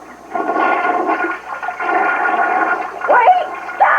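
A toilet flushes loudly and close by, a gurgling rush of water that surges, briefly dips and then swells again before trailing off into draining gurgles.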